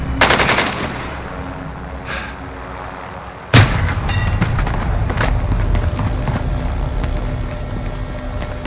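Bursts of automatic gunfire and a sharp loud blast in Call of Duty Warzone on Rebirth Island, with rattling fire at the start, a sudden heavy report midway, then ongoing rumbling vehicle and wind noise.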